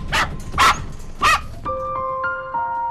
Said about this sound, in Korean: 겁에 질려 사방을 뛰어다니며 울부짖는데